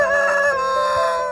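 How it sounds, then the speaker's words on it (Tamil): A rooster crows loudly and close by, one sustained harmonic call that holds for over a second and fades slightly at the end. "சேவல் கூவுகிற சத்தம் மிகப்பெரிய தாக்கத்தை ஏற்படுத்தியிருக்கும்"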